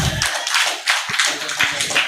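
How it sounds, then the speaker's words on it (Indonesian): An audience at a religious gathering claps in bursts, fairly loud and close, with uneven waves of hand claps rising and falling. "tepuk tangan"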